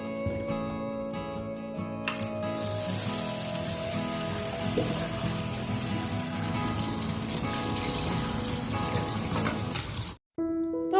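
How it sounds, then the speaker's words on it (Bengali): Vegetables for chow mein, including cabbage, cauliflower, carrot and spring onion, are washed under running water, a steady loud splashing rush that continues unbroken before cutting off abruptly near the end. "এগুলো আমি ভালো করে একটু ধুয়ে নেবো"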